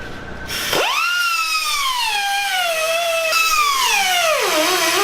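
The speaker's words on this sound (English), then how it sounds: "I'm going to cut through this weld here." A steady high-pitched whine from a cutting tool slicing through a weld on a pocket bike caliper bracket, its pitch sagging and climbing as the blade loads up, loud and continuous for about four seconds with no talking.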